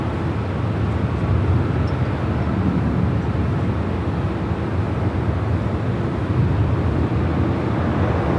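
Delta Airbus A330-900neo bound for JFK beginning its taxi at LAX, a steady broad engine rumble and roar that holds evenly throughout with no voices.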